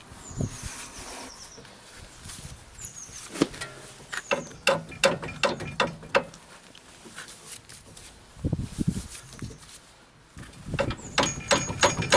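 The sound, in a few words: spanner ratcheting on Freelander 2 rear wheel bearing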